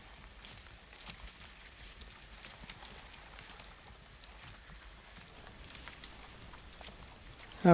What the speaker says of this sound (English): Louis and I are leading our pack string across the Prophet Meadows on the last day of the trip